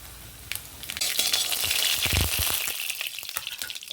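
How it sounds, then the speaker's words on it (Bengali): A dried red chilli and black cumin seeds crackle and spit as they temper in hot oil in a wok, with a loud burst of sizzling in the middle that eases off toward the end. "একটা শুকনো লঙ্কা ফোড়ন দিলাম আর একটু কালো জিরা দিলাম"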